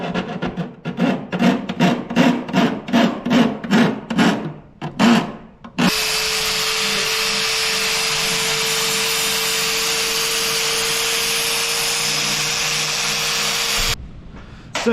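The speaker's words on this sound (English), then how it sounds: "we're going to hit that with a file" Rapid back-and-forth rasping strokes of a metal file scrape at a tail light hole on a Jeep TJ for several seconds, then give way to a steady loud whine of a power drill.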